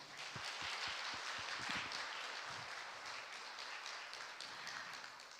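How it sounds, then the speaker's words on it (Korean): Audience applause at a nuclear safety and promotion day ceremony, a faint, steady wash of clapping from a distant crowd that holds evenly throughout, with a few sharper individual claps standing out early. "다시 한번 박수 부탁드리겠습니다"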